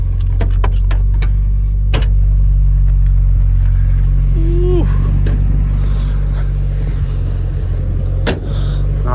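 A Datsun 620 pickup with a swapped engine drives along, its engine a loud, steady drone close up, with a brief rattle and a voice giving a short exclamation.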